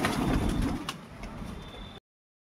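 Pigeons on a rooftop being fed give brief soft coos and flutters inside a steady broadband rush for about two seconds, with no talking.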